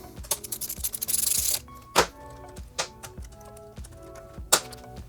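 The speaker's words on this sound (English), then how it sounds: "12mm socket, removes these two guys." A 12mm socket removes bolts on a 2018+ Kawasaki Ninja 400, with a short scraping ratchet burst followed by sharp, close metallic taps and clinks at irregular intervals.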